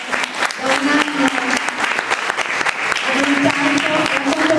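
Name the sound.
audience applause for Filippo Leonardi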